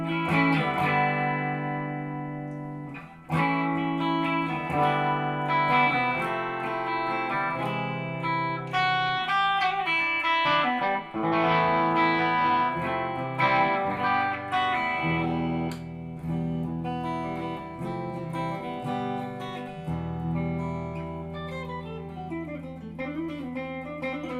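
Gibson Les Paul Modern Lite electric guitar played with a fairly clean, traditional tone, a continuous run of chords and single-note phrases with sustained ringing notes, close and moderately loud with no voices.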